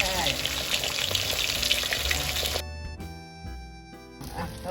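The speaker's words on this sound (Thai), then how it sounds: "ต้องใจเย็นๆนะคะเวลาทอดทอดไปเรื่อยๆ" Silver barb fish frying in a generous amount of oil over medium heat, giving a steady, loud, close sizzle for a couple of seconds before it cuts off and music takes over.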